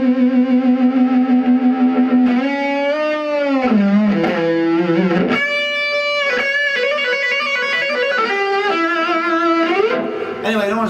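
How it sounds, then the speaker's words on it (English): Fender Vibro Champ XD amp with the gain cranked, played through a humbucker guitar: loud, sustained distorted chords and single notes with an overdriven, slightly echoed tone, continuous and alone throughout. "We're going to crank the gain all the way up, and we're still down on the humbucker."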